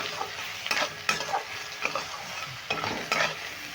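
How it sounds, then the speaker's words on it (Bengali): Potato and eggplant with salt and turmeric are stirred in a frying pan, and a soft sizzle runs underneath while rhythmic spatula scrapes repeat about every half second up close, with no speech. "এবার নুন আর হলুদটা দিয়ে আবারও আমি নেড়ে নেব"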